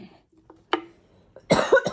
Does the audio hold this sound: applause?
no